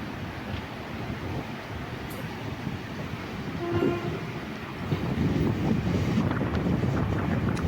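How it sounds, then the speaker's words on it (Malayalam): A MEMU train runs at speed between Kollam and Kottayam, heard from inside as a steady loud rumble and wind roar, with a short horn blast in the middle and rising track noise toward the end. "ഈ മെമു അത്യാവശ്യം അടിപൊളി സ്പീഡിലാട്ടോ കേട്ടോ യാത്ര ചെയ്യുന്നത്."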